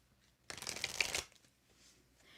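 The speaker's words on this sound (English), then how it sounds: "Nope, I want to shuffle again. Let's just have that shuffling compulsion." A tarot card deck being shuffled by hand, a single quick burst of riffling card flutter lasting under a second, close and crisp against a quiet background.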